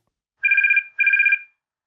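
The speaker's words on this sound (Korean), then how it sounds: "모르는 번호로 전화가 걸려왔어요" A telephone rings for an incoming call, two short electronic trilling bursts separated by a brief gap, clear and close against silence.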